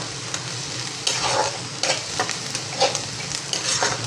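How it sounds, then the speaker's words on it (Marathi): Onion sautéing in oil with curry leaves and asafoetida for tomato chutney, a steady close sizzle broken by repeated scraping strokes of a spoon stirring the pan. "आता हा कांदा मी परतते चांगला."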